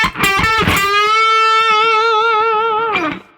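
Electric guitar with distortion plays a lead lick from a solo: a few quick picked notes, then one long sustained bent note with vibrato that drops at the end, loud and close.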